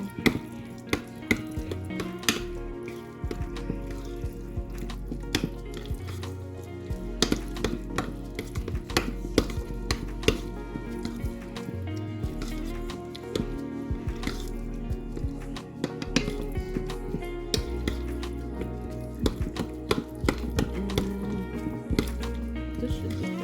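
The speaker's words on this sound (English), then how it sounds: "Want to mix this really well." Stuffed shells filling being stirred in a bowl, giving wet squishing and soft scraping strokes in a steady, repeated rhythm, close and moderately loud, with background music playing underneath.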